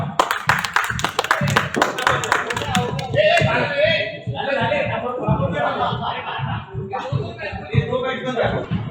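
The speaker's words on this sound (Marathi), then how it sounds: "त्यासाठी आपण सगळ्यांनी टाळ्या वाजवूया" Audience applause at a cricket match event during a democracy festival celebration, a steady crowd clapping that fills the scene, loud and continuous, with someone speaking over it for part of the time.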